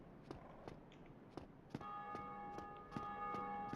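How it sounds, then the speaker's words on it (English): Ringing of a bell in the video game Dark Souls, heard as a few sharp metallic strikes whose tones then hang and ring on, fairly quiet, with no voice over them. "Hopefully I'll be ringing the bell soon."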